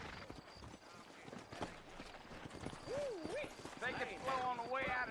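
Horse hooves clip-clop in the Red Dead Redemption video game played on Android, a steady rhythmic patter of hoofbeats mixed under character voices, ambient game sounds and a rising, wavering tone.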